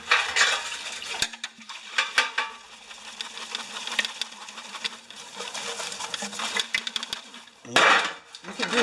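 Liquid dumped back into a corroded Homelite pressure washer tank, with sloshing, splashing and clattering of the lid and container in irregular bursts, close by, with a louder pour near the end.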